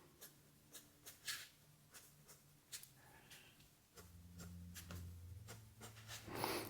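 Pencil sketching a realistic football onto paper, drawing pentagon outlines: repeated short scratchy strokes, close and fairly faint, with a low hum underneath in the second half.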